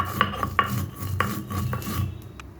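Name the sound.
crushing roasted fennel seeds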